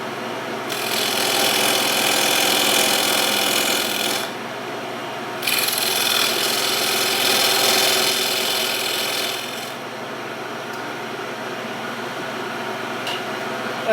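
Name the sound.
wood lathe turning away waste plywood from segmented bowl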